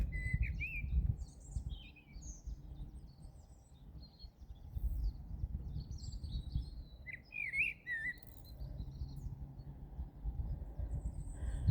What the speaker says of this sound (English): Let's see if it's a robin or if it's not a blackbird.